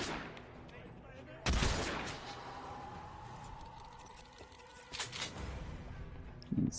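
Gunfire in Hitman: Absolution, a sharp loud shot followed by a decaying echo, then a cluster of quicker bursts and a final shot, over a low ambient background.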